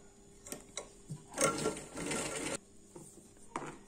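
A sewing machine stitches the neck finishing on a baby frock, with short, separate clicks, then a louder sustained whirring run of stitching, close and alone before a few more taps.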